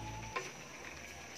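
Vegetables and chicken sizzle steadily in a pan, with a brief stirring scrape partway through; close, moderately quiet, and no talking.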